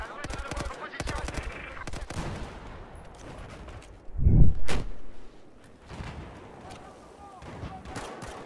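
Burst of Battlefield 4 gunfire in a first-person shooter match: repeated sharp shots scattered across the span, with a louder, heavier blast midway, while a player talks over the action.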